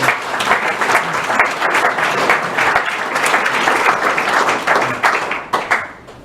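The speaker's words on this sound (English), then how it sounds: "a round of applause for Richy to thank you" An audience at a meeting on assisted dying in the UK applauds a speaker, a full, steady wash of many hands clapping, loud and close, tapering into a few scattered claps at the end.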